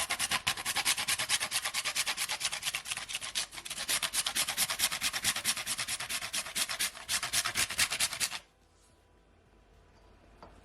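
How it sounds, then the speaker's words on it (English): Nutmeg rubbed against a grater for Jamaican pumpkin punch gives a close, rhythmic rasping of quick repeated strokes for about eight seconds, then stops abruptly into near silence. "And I'm gonna grate my nutmeg, and I'm just gonna grate just 1/4 teaspoon"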